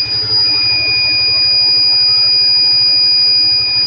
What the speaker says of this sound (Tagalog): So, nag-alarm siya.